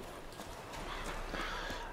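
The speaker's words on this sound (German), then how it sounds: "Ich gehe mal das Pferd fangen hier." A horse in the video game The Witcher clip-clops with quick hoofbeats and gives a short whinny, faint and brief against a soft game background.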